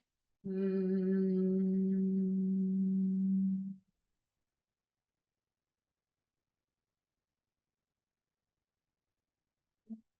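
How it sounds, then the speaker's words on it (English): A sustained voiced hum during a yoga exhalation, one steady tone with rich harmonics lasting about three seconds, close and clear, followed by silence and a brief faint sound near the end. "humming sound."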